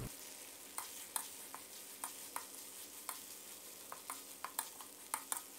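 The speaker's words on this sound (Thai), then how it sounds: "นำน้ำพริกลงเรืองเราลงกระทะเลยครับแล้วก็ผัดน้ำพริกของเราให้สุกหอมเลยนะครับ" A spatula scrapes and taps steadily against a pan while Thai chili paste for nam prik long ruea sizzles softly underneath as it stir-fries, close up.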